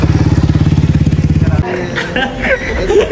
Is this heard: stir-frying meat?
no